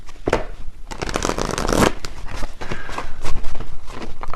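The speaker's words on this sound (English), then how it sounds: "let me actually get a few more tarot for this part" Tarot cards are shuffled by hand in a close, steady riffle of crisp papery slaps and fluttering, with a few louder bursts of card noise and no talk over it.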